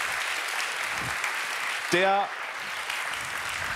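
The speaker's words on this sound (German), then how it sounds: "das verdient nochmal einen fetten Applaus" Audience applause fills the hall at a youth science competition award ceremony in Augsburg, steady broadband clapping throughout, with a brief spoken word cutting across it near the middle.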